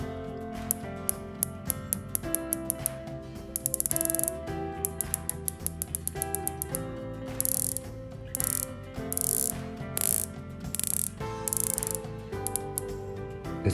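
Ginault Silent Service watch with a 120-click, 40-tooth bezel being turned: a rapid run of small, crisp mechanical clicks that come close and fairly quiet in bursts, with brief pauses between them.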